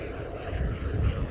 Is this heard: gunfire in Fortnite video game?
no